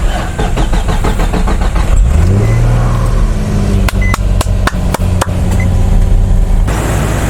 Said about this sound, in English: Now that we have our dead vehicle started